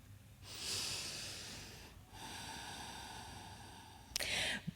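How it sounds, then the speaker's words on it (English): Deep breathing during a yoga flow: two long slow breaths drawn in and pushed out through the nose and mouth, close and alone, ending with a short sharp exhale. "And really breathe."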